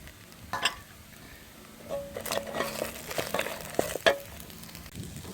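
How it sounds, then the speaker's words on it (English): Onion frying in a pan for beef masala, with a soft, continuous sizzle broken by several stirring scrapes and metallic clinks of a utensil against the pan, close and fairly quiet. "Time to add onion."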